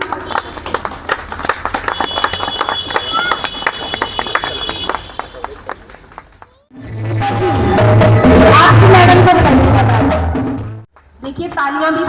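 Audience clapping at a Republic Day cultural program, a dense spread of hand claps filling the first seconds, then giving way to loud music with singing, with the claps fading under it.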